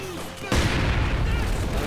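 Mortar blasts and gunfire from the Company of Heroes 2 real-time strategy game form a dense, continuous battle roar, with a sudden louder wave of explosions midway and no speech.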